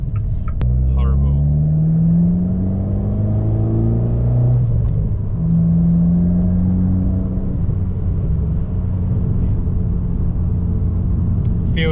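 A turbocharged Abarth car's engine accelerates from inside the cabin, a loud close rumble with rising and falling tones as it pulls through the gears, steady and continuous with a voice speaking over it.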